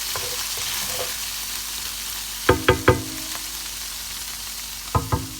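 Chicken curry paste fries in oil in a fry pan over turned-down heat, a low steady sizzle broken by several sharp knocks and clanks of a utensil against the pan.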